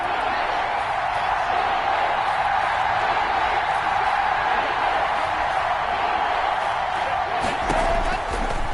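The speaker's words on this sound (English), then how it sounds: "the crowd getting into it as we come up on a big third down" A football stadium crowd roars steadily ahead of a big third down, a dense, continuous wash of noise with a faint voice beneath it.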